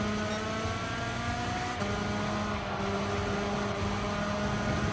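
Go-kart engine in Gran Turismo 7 racing, a continuous buzzing whine that rises and falls as it pushes around the outside of a corner, steady and fairly loud.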